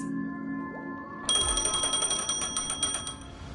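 A phone rings in Honkai: Star Rail, a bright electronic trill repeating in quick pulses for a few seconds after a brief steady tone, loud and clear with no talk over it.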